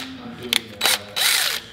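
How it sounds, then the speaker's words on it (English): Regular power drill fitted with a right angle drill attachment, a few short whirring bursts and one longer spin with brief gaps, close by, with a bit of handling noise between bursts. "Put it in a regular drill."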